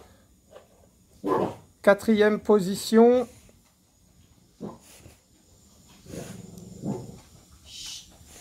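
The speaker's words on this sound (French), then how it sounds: "Excusez-moi pour les chiens." Dogs bark near the microphone in a couple of sharp bursts, then a softer bark and whimper later, while someone speaks French over them.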